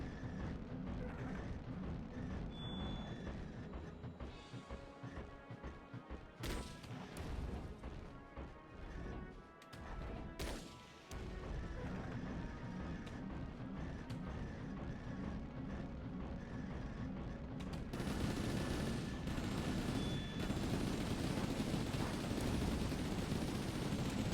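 Enemy gunfire in the mech combat game Chromehounds sounds as scattered distant cracks and heavy impacts over a constant low mechanical rumble, fairly faint, ending in a louder sustained wash of noise.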